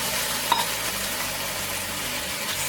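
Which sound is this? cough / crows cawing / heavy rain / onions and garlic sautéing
onions and garlic sautéing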